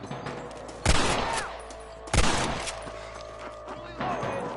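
Gunshots in the video game Red Dead Redemption, with three sharp, loud blasts spaced about a second or more apart, each trailing into echoing decay over a steady low ambient hum.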